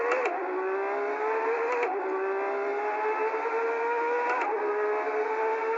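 A race car engine roars loudly around a track, its pitch climbing steadily through each gear before short breaks at the shifts, then rising again, close and alone.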